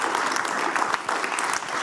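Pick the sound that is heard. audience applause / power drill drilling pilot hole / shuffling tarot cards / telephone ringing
audience applause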